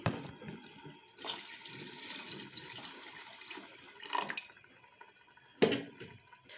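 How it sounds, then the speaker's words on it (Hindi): Water is poured into mixed moong and masoor lentils in a pot while dal gosht is cooked. The pouring comes in short splashing bursts with quieter gaps between them, close by. "दाल जो है ये अच्छी तरह से मिक्स हो गई है और इसमें हम ऐड करेंगे अब पानी।"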